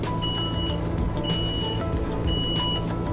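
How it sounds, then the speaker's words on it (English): Inside a vehicle, a Q'Straint Quantum automatic wheelchair securement arm deploys amid a steady low engine hum, while a repeated electronic beep sounds in regular pulses and faint clicks tick over it. "the quantum arm will come out, down, and secure their mobility device in less than 20 seconds."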